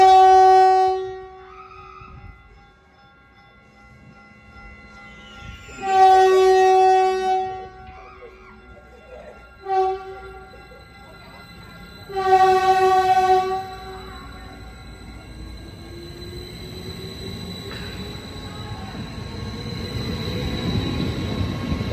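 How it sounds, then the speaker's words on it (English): Caltrain 128 led by locomotive 322 at Redwood City station, sounding several long loud horn blasts nearby, followed by a rising rumble of the passing train with faint wheel squeal. "This is Caltrain 128 on its way to Tavia. 322 leading off."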